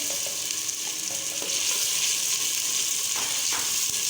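Beef handi masala cooking in a pot with boiled, peeled tomatoes and ginger-garlic paste, a steady bright sizzle with a few stirring scrapes, close and continuous.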